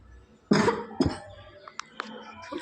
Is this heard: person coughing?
yes